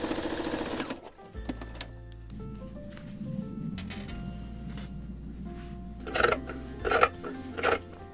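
A sewing machine stitches a pouch made from fabric scraps, with a rapid mechanical whir in bursts, short pauses and a few louder clacks near the end, close up.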